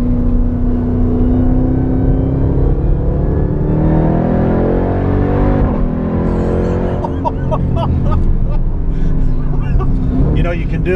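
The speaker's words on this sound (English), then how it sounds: "you can hear the supercharger now" A supercharged 2018 Jeep Trackhawk engine revs up and winds down, rising supercharger whine and growl through several shifts, loud and close, with a person talking over it.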